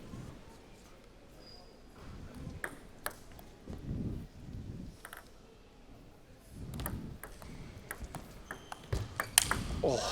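Table tennis rally in a college women's singles final, sharp ball cracks from forehand hits and table bounces spaced through the clip in a large hall, with a commentator talking quietly over it.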